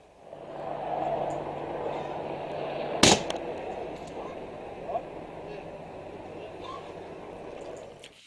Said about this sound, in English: Can hear the gunshots in the background.